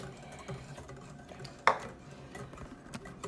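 A spoon stirring broth into coconut milk in a pot for Thai coconut soup: soft scraping and faint clinks, with one sharp metallic knock against the pot partway through, close and alone without talk.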